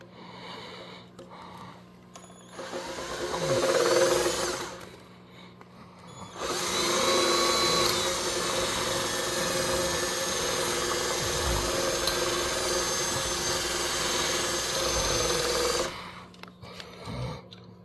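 A power drill bores into a bolt on a mini bike motor, loud close whining bursts with a brief pause between runs and a long sustained stretch before stopping, steady under no talk.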